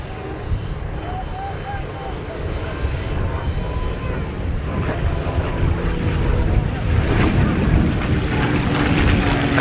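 North American P-51 Mustang warbirds fly at the Duxford Battle of Britain Airshow, a piston-engine drone that gradually grows louder, heard beneath ongoing commentary.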